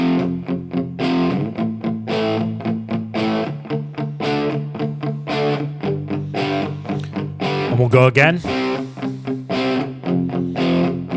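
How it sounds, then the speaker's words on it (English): An electric guitar with distortion and effects plays a phrase twice over, in rhythmic strummed chords with bends, and a short spoken line briefly joins near the end. "that 5-bar phrase, we're going to play it twice. It should sound like this."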